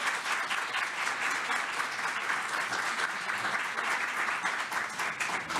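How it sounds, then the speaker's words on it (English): Audience applause for school board members at a monthly district board business meeting, a steady dense round of clapping from a crowd that holds even for several seconds with no talk. "So before they go sign, let's give them a round of applause first."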